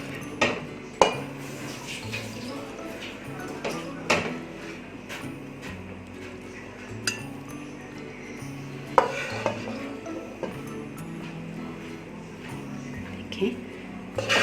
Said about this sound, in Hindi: इसको हम डिश आउट करते हैं